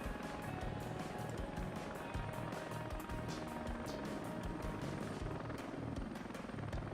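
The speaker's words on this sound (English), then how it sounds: "now I have a helo again" A helicopter in a video game thrums steadily with rapid rotor chop and engine whine, loud and constant throughout, with no speech over it.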